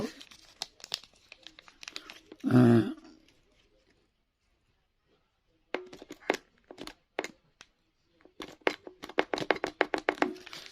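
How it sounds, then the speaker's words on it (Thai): A plastic zip bag holding a small bronze Buddhist amulet coin with shallow green corrosion crinkles loudly in one brief burst, followed by scattered soft handling rustles and taps, with someone talking intermittently around it. "นำพระนะครับ ใส่ลงไปในถุงซิป"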